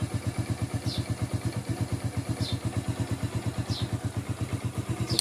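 A motorcycle engine with a repaired timing chain tensioner idles nearby with a steady, regular putt-putt pulse and a faint metallic clatter, no voices over it.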